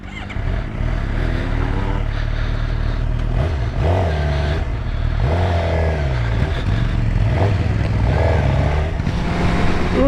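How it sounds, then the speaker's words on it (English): A motorcycle on its first ride since purchase hums steadily from engine and road noise, close and loud throughout, with rising and falling pitch as it accelerates and shifts. Faint wind rumble sits under it. "First time I've ridden this motorcycle since getting it."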